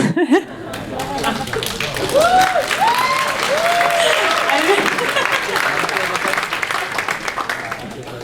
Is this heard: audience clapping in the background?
yes